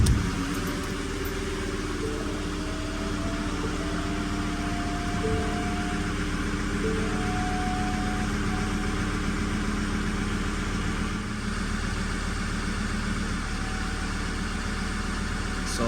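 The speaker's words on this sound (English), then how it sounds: "let's start the engine" A Ford Ranger pickup engine idles steadily with a constant low rumble and drone, close and continuous throughout.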